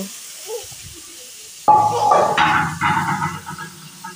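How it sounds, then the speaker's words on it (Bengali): Water is poured into a hot kadai of fried fish for fish bhuna. After a quiet start comes a sudden loud burst of hissing sizzle that pulses, then gradually settles. "মাছগুলো কড়াইতে দিয়ে দেব, দিয়ে পরিমাণ করে পানি দিয়ে দেব।"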